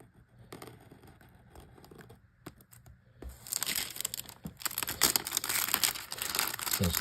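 Old-style cellophane wrap on a 1960s UPC/Aoshima Kawanishi E15K1 Shiun vintage model airplane kit box crinkles and crackles, with sparse rustles at first and then dense, loud, continuous crinkling close to the microphone.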